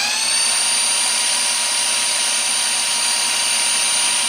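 Pontiac V8 engine fitted with Comp Cams solid lifters runs steadily at close range, a loud, continuous mechanical roar with a bright whine and busy valvetrain clatter throughout, no voices.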